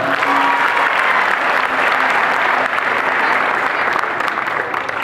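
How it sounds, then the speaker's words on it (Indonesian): An audience at an Islamic boarding school public speaking session applauds the students who have come forward, a steady, dense wash of clapping that stays loud from start to finish. "tepuk tangan untuk mereka"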